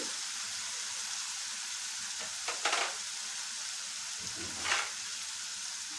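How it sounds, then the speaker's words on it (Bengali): Vegetables with spices and carrot fry in a pan with a steady bright sizzle, broken by two short bursts of louder scraping and hissing as they are stirred, and no voices. "দিয়ে দিলাম ভালো করে নেড়ে নিই"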